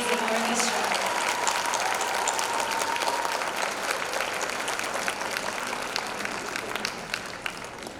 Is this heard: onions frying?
no